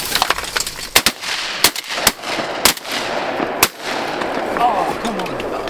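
Several sharp shotgun blasts ring out at irregular intervals during duck hunting over a flooded milo field in northeast Texas, loud and close, with hunters talking around them.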